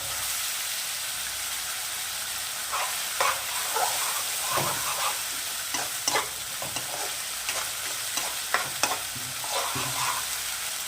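Food fries in a pan with a constant bright sizzle and hiss, broken by irregular clicks and scrapes of stirring, close and fairly loud throughout.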